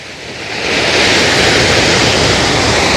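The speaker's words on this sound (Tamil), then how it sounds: "எல்லாம் பாருங்க தண்ணி போகுது." Loud, steady rush of the Thamirabarani river flowing at Mundanthurai forest fills the whole clip, a broad roaring wash that swells slightly in the first second and then holds constant.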